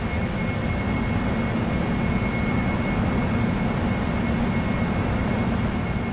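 Steady, loud, unbroken roar of Boeing 747-400 SuperTanker jet engines climbing out after takeoff in a flight simulator, with no voices over it.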